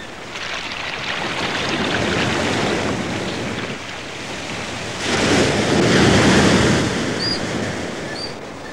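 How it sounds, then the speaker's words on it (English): Rough sea surf roars continuously, with heavy waves surging and crashing close by, a louder swell breaking midway, and wind rushing throughout. "Despite the thundering sea"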